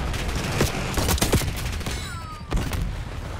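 Gold ASG-89 shotgun fire in Call of Duty Black Ops 6: several loud, sharp blasts in quick succession amid ongoing game noise and distant shooting.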